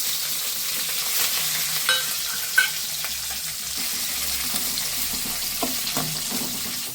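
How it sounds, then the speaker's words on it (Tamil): Onion, curry leaves, mustard seeds and cumin sautéing in oil for a peanut and bottle gourd stir-fry, a continuous close sizzle with occasional spatula scrapes and knocks against the pan. "பொரிஞ்ச உடனே வெங்காயமும் அப்புறம் கருவேப்பிலையும் போட்டு வதக்கிக்கலாம்"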